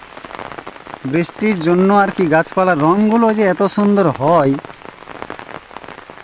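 Heavy rain falls steadily on a garden, a soft broadband hiss that starts alone, continues under a person's close speech through the middle, and returns clearly at the end.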